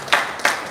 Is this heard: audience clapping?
yes